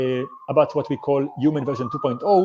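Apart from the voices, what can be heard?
sirens in the background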